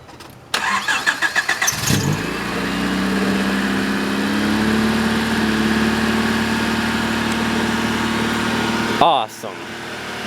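A 1995 Honda Civic, just back together after a head gasket repair, cranks briefly and catches, then idles high and steady up close for several seconds before a clunk near the end; people talk over it.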